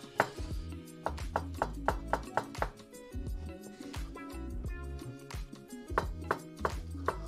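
A knife chops vegetables finely on a board for an oven dish with mashed potatoes, chicory, ham and cheese. The close, crisp strikes come quickly and rhythmically, with short pauses between runs.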